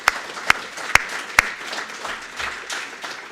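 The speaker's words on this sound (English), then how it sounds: "Can we have a round of applause for David?" Four sharp, evenly spaced claps ring out close by, followed by a softer scattered patter of applause.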